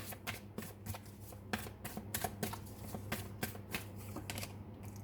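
A deck of tarot cards is shuffled by hand close up, giving quick riffling flicks and soft slaps in an uneven rhythm, fairly quiet, with faint low talk underneath.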